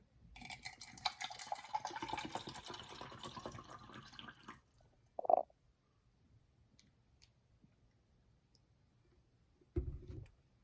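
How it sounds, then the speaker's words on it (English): Water is poured into a container for a pH and TDS test, a soft trickling fill lasting about four seconds, followed by a short clunk, near-silence and another brief knock at the end. "Let's pour some water in."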